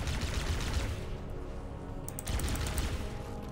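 Rapid gunfire from a Halo: Combat Evolved firefight, a dense stream of shots and explosive bursts filling the whole stretch, loud and close, with a sharper flurry near the end.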